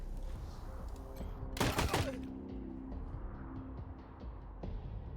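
A short, loud burst of gunfire in the video game Wasteland 3 stands out for a moment over a steady background of game ambience. Fainter pops and clicks trail off afterward.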